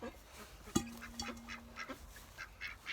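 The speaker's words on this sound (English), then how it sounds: "I like to feed vegetable scraps to the ducks" Ducks quack in short bursts while eating thrown vegetable scraps such as beets on a homestead, with one sharp knock at the start; the calls are faint and scattered.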